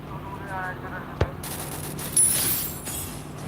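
Bursts of gunfire in the Free Fire Clash Squad mode during a tournament grand final, with a sharp shot and a louder volley over steady background game noise.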